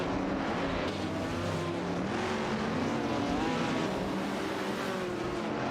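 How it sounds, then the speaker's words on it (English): Steady, continuous engine roar of race cars in a video game race, a Ford Mustang Boss 429 and a Toyota 2000 GT among them, droning at constant loudness with shifting pitch and no talking. "The Ford Mustang Boss 429 and Toyota 2000 GT are really going head-to-head in this race."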